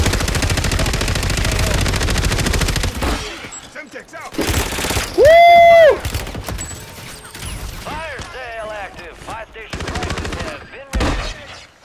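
Dense bursts of automatic gunfire in a video game, followed by scattered single shots and mechanical clicks, loud and close, with players talking over it.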